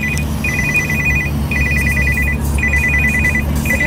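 A telephone ringtone sounds in repeated electronic trilling bursts, about one per second, loud and alone over a steady low background hum with no speech.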